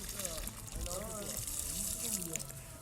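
Water runs steadily from a hose while a pomegranate tree is watered outdoors, a constant soft hiss with faint talk over it.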